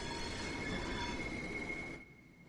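A Class 465/9 electric multiple unit runs in Train Sim World 3, giving a loud, steady rumble with a sustained whine that cuts off abruptly near the end.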